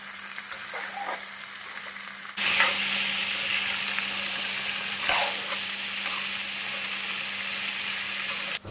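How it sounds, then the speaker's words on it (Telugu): Chopped ivy gourd (dondakaya) fries in oil over a flame, a steady close sizzle that jumps louder partway through and carries on evenly, with a few stirring scrapes and no talk. "ఈ దొండకాయలని మనం ఒక పావు గంట లో ఫ్లేమ్లో ఇలా ఫ్రై చేసిన తర్వాత"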